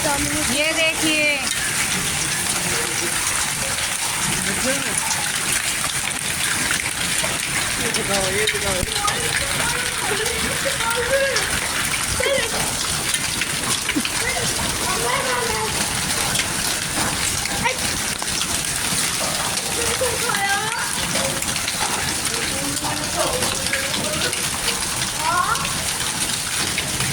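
Water rushes and splashes continuously after a hailstorm and heavy rain in Saharanpur and Meerut, a steady loud gushing wash with people talking over it at intervals throughout.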